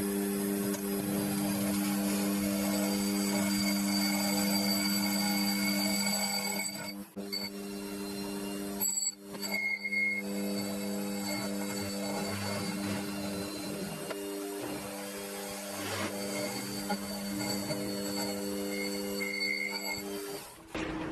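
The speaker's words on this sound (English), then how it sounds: "But I just want to face this off." A lathe or milling machine makes a facing pass across a rusty, pitted metal part for a homemade ER32 collet spin indexer, with a steady whine and tonal hum that drops out briefly twice before resuming.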